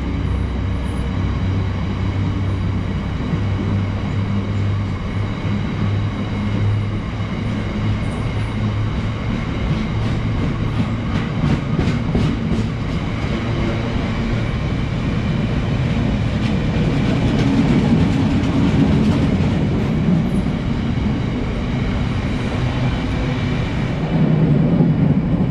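A freight train hauled by locomotive 66793 rolls past at Wakefield Kirkgate with its wagons, making a loud, steady rumble with rhythmic clickety-clack from the wheels throughout.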